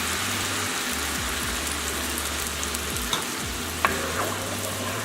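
Bone-in chicken for coq au vin cooks in a pan over a low to medium flame, giving a continuous sizzle with a low hum beneath and occasional light clinks of a utensil.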